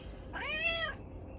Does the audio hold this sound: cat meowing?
yes